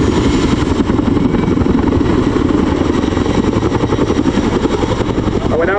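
A twin-rotor helicopter performs a quick stop at the RAF Cosford airshow, its loud, continuous rotor thudding and engine roar steady and close throughout, with rapid blade chop pulsing under the drone.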